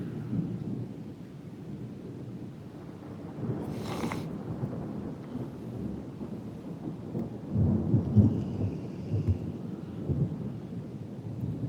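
A summer thunderstorm near a stand of woods, with low rolling thunder rumbling steadily and swelling louder toward the middle, and constant rain hiss underneath, heard from a distance with no talking.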